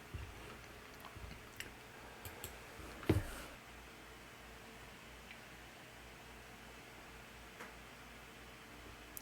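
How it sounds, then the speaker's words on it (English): A single mouse click on a buy button, one short sharp tap near the middle, fairly faint against a quiet room hum. "Go ahead and click buy XETA."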